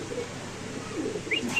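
A male racer pigeon coos at a market stall, low soft murmuring calls carrying over a steady background hum, with a brief sharper chirp near the end.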